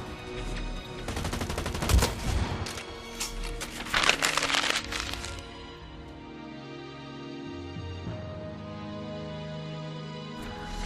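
Shotgun blasts in the first-person shooter Blacklight: Retribution come as a quick burst of sharp shots in the first half, then settle into a steady game hum.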